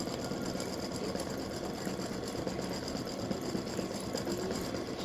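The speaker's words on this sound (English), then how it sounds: "it's going to go around now and do a satin stitching around the star to secure everything together" An embroidery machine runs steadily while satin stitching around a star, giving a quiet, even mechanical hum and rapid needle chatter with no pauses and no voices.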